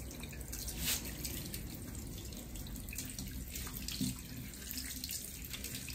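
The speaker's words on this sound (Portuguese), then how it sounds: "Vou enxaguar aqui pra vocês verem." Tap water runs steadily as hair is rinsed at a sink, a soft continuous splashing with a few louder splashes, fairly quiet and with no talk.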